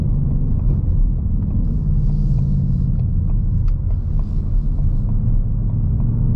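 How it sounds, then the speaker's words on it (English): A 2020 Ford Mustang Bullitt gives off a loud, deep engine rumble while driving through downshifts, a continuous low growl heard from inside the car with no talking. "Beautiful downshifts."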